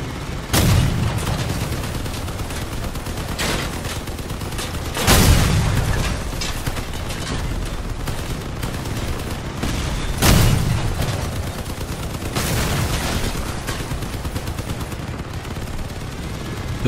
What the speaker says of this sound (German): Dann noch zwei Schuss mit der großen Kanone.